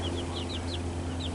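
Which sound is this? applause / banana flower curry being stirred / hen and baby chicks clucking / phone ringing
hen and baby chicks clucking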